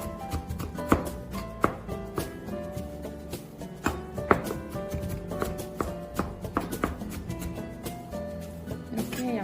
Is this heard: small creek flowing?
no